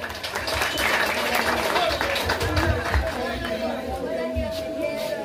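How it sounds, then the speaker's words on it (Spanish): A crowd at a patronal fair claps for a newly crowned young lady, a sustained, dense round of applause mixed with loud chatter and crowd noise throughout. "¡Fuerte los aplausos!"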